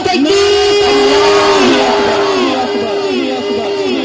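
A large crowd at a religious gathering in Karachi answers the Nara-e-Takbir call with a loud collective shout, one sustained voice ringing over a roaring mass of voices that slowly fades.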